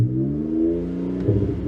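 A Seat Mii's small engine is held at its rev limiter around 4,000 rpm with the throttle floored. It gives a steady, droning, slightly wavering hum that lasts the whole short stretch, close and fairly loud, with no one talking.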